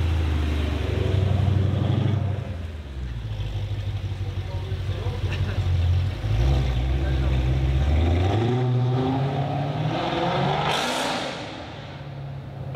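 A V8 engine revs hard and close, climbing and dropping through several surges of throttle, with talk audible underneath.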